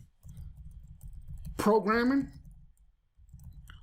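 Rapid keyboard typing clicks in a steady patter, with a person speaking briefly in the middle while the typing pauses.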